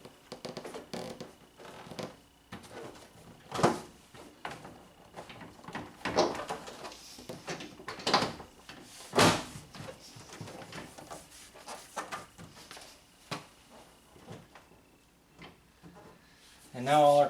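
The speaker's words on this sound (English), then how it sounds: "we should be able to just hang this door panel back on" Clicks, thumps and scrapes of a Toyota Tacoma interior door panel being hung back onto the door and its clips, in a string of sharp knocks and rustles spread across the clip with a louder bump near the end.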